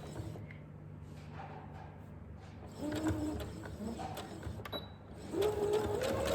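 A sewing machine runs close by, straight stitching a fabric face mask seam with a steady whirring motor in uneven bursts, while a faint bird cooing carries in the background.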